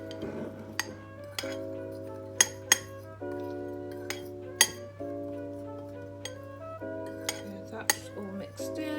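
A fork clinks against a bowl while mixing sesame into flour, with a scatter of sharp, bright metal taps over a steady tonal hum and soft scraping.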